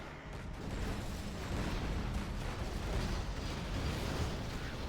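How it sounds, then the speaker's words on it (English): A nuke cannon shell slams into Battlemasters in Command & Conquer Generals: Zero Hour, a dense rumbling blast with crackling debris that stays loud and sustained for several seconds. "huge hit from the nuke cannon, taken by Fargo's army"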